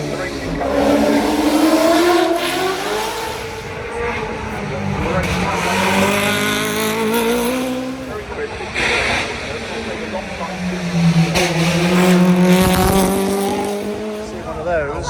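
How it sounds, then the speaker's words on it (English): A racing car at the Goodwood Festival of Speed roars past with rising and falling engine pitch through gear changes, loud and continuous, with a brief tire squeal and crowd noise around it. "Now we do motorsports anyway, the racing car."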